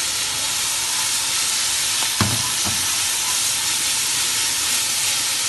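Onions and bacon browning in a cast-iron pot give a steady, loud sizzle that runs throughout, broken by two short stirring knocks around the middle, with no voices.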